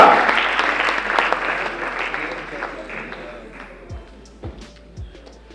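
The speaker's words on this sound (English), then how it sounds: "Hand of applause to that team from Rwanda all the way from ULK." An awards-ceremony audience at a university capital market challenge applauds a team from Rwanda, dense clapping strongest at the start and gradually thinning, with a voice speaking over the fading applause near the end.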